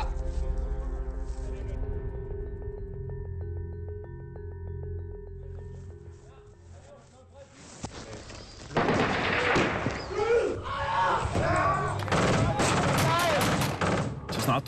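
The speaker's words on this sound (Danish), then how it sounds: "Du hører de der skud hen over hovedet, så bliver man pissebange." Gunfire in Afghanistan, shots passing overhead, with several dense bursts of sharp cracks crowding the latter half after a quieter, tonal opening with a low rumble.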